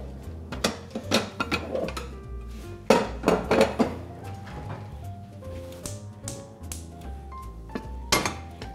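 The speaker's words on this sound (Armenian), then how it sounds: "Այսինքն հիմա հարկավոր է կացան արդեն դնել գազօջախին։" A metal pan is set down on a gas stove in a home kitchen, producing a series of sharp clanks and clinks that ring briefly, with quieter rattles and pauses between them and no voices.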